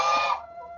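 A chicken in a backyard flock lets out a short, bright cluck or squawk up close, which fades quickly into quiet.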